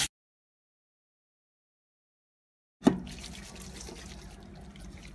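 Hot water from a kitchen tap rinsing cooked corn pasta in a strainer, a steady nearby splashing rush that starts abruptly after nearly three seconds of silence.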